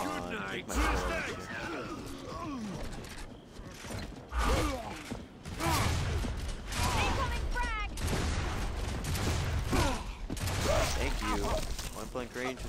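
Shotgun blasts in the video game Gears of War: Judgment team deathmatch, repeated loud bursts of fire and clanking mechanisms across a busy battle, with voices talking over the action.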